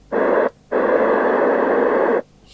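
Steady hiss of a Cheiza CB702 UK FM CB radio receiver, a broad static rush that cuts in briefly, drops out, then runs for about a second and a half before stopping, close and even in level.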